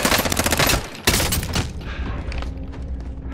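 Rapid automatic gunfire in the Call of Duty Rebirth Island battle royale, two loud, close bursts of dense shots separated by a brief pause, then a fading tail of echoing distant fire.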